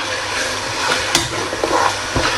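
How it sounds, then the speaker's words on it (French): Okra sauce (sauce gombo) being stirred in a pot, a few soft scraping and clinking strokes over a steady frying sizzle, close by and moderately loud. "Et ensuite, je vais mélanger tout ça"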